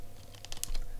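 A few quick computer keyboard keystrokes tap out close by against a quiet room, a short burst of clicks without speech.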